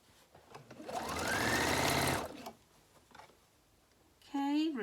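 A sewing machine stitches fabric for a peg bag in a steady, whirring run that rises and then stops, followed by lighter handling noises. Close by, a voice briefly speaks at the end.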